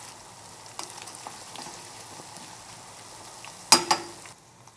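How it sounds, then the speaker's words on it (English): Spicy chicken and vegetable soup (dakgaejang) boiling vigorously, bubbling and sizzling steadily in a pot, with a sharp clatter near the end. "Now it's vigorously boiling"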